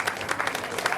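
A crowd at a Ramlila stage performance claps for two honored brothers, a brief, dense burst of applause with distinct individual claps, heard alone.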